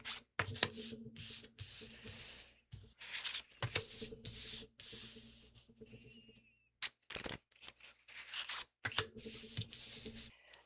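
Tarot cards shuffled and drawn in repeated bursts of papery riffling and sliding, close and fairly loud, separated by short quiet gaps, with no talking over it.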